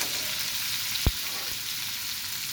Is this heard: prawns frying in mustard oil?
yes